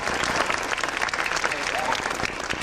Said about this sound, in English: Yeah, you can applaud for him.